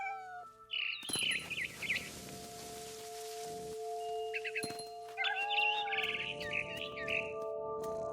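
Frightened barn swallow chirping in the game What Remains of Edith Finch, with bursts of high, rapid tweets in several clusters over a soft rain-like patter and a low sustained tone, no talk.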